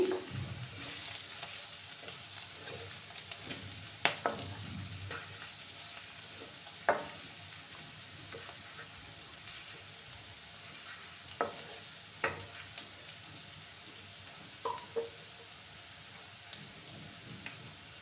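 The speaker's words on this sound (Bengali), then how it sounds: "এবার আমি সামান্য হাফ চামচের মতো গোটা জিরে দিয়ে দিলাম দিয়ে ভালো করে আবার ভেজে নিচ্ছি আমি" Whole cumin seeds fry in a pan with a soft, steady crackling sizzle, while a spatula scrapes and clinks against the pan now and then, fairly quiet and close, with no voices.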